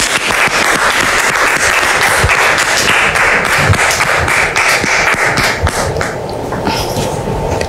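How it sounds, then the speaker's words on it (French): A studio audience applauds in a dense, sustained wash of clapping with sharp individual claps and thumps standing out, loud and continuous, fading slightly near the end. "public, merci de recevoir Dame Bébo sous vos applaudissements."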